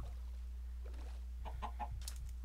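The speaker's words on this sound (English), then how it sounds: "there's a bunch of chickens on top of that hill as well" Minecraft chickens cluck in short bursts nearby over a steady low hum, a few quick clucks clustered toward the end.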